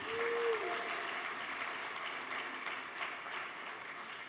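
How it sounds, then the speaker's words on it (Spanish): A congregation applauds during a Spanish-language church service, a continuous wash of clapping from a crowd that stays fairly even throughout, with a short tone at the start. "Dale un aplauso al Señor."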